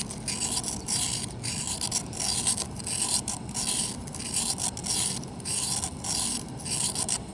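A blade bevel is sharpened on an oiled sharpening stone with continuous rhythmic back-and-forth rasping strokes, close and even throughout.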